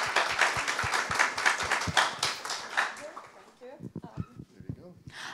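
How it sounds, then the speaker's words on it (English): An audience at a Human Rights Day event claps in a dense burst of applause that fades into scattered claps, with voices talking over the end. "Round of applause, come on."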